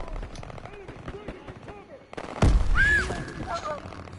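Gunfire in Call of Duty WWII on PS4: quieter scattered battle sounds give way to a sudden loud burst of shots and blasts midway, with voices talking over the combat noise.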